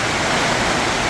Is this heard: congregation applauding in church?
no